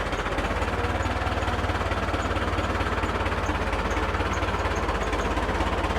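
A tractor engine runs at a sawmill while logs are loaded, a steady rapid diesel chug with a pulsing, knocking rhythm, held at a constant idle-like pace with no talking.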